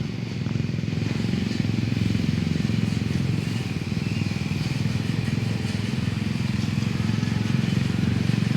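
A plough machine engine runs in a field, a steady, loud, close drone with a rough, rattling edge that holds without a break.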